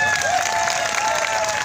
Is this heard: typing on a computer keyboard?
no